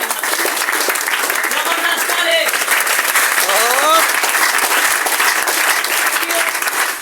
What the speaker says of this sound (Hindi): एक बार फिर से जबरदस्त ताली।